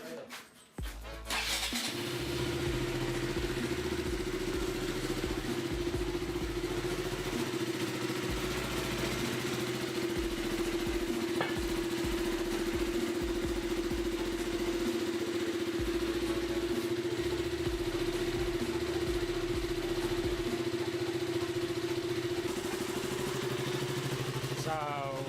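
A KTM Duke 200/390 motorcycle starts up and settles into a steady, throbbing idle after a coolant change, the engine running close and continuous while someone talks over it.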